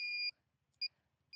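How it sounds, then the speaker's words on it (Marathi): Electronic beeps from a groundwater detector machine: a longer tone, then a short one, and another starting at the end, clear against near silence. "ही मशीन चालू करताच बीप असा आवाज येतोय"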